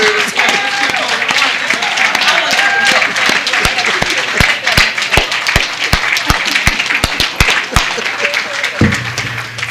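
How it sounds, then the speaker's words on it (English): A crowd applauds steadily for several seconds, the claps dense and sustained before fading near the end. "we'd like to give them a round of applause"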